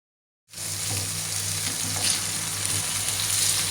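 Kefta burger patties sizzle in a hot pan, a loud, steady frying hiss that starts abruptly after a brief silence and carries on without pause.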